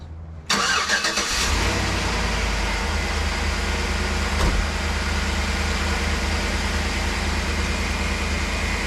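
A 2008 GMC Yukon engine cranks and catches after a brief silence, then settles into a steady, loud idle close by that continues unbroken to the end.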